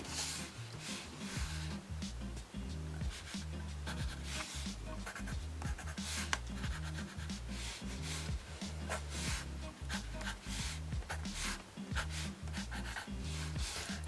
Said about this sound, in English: Let's test our red and blue pencil.